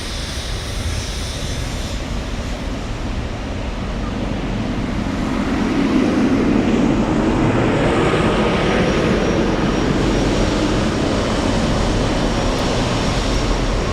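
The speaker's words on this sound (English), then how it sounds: "Lufthansa cargo." A Lufthansa Cargo airliner passes at Frankfurt airport, a broad steady engine roar that swells midway and holds loud to the end, no voices.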